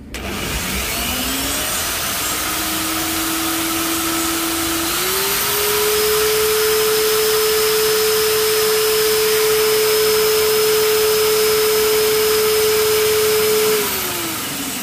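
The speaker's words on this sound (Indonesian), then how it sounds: "Kita tambahkan alat bor. Kita coba nyalakan." An electric drill's loud, steady motor whine runs almost continuously, rising in pitch a few seconds in as it speeds up, then winding down near the end.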